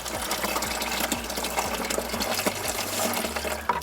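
Water is poured off threshed eggplant seeds and pulp in a container during seed winnowing, a close, splashy trickle and gush with small knocks, quiet and steady, with no talking.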